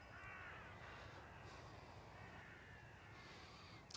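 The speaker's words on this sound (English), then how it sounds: "That crow says, I'm flying off to Châtellerault." Crow caws ring out over a steady outdoor background hum during a mindful walk, with a few calls in the opening second and again near the end, moderately distant and without talk.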